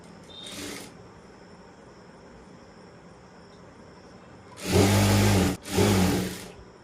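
A sewing machine stitches a thick basting seam on a kurti in two bursts of loud whirring, split by a brief pause, against a quiet room hum.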